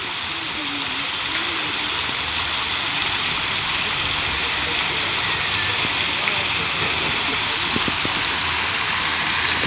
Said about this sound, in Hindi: ये पानी वाटर स्प्रे हो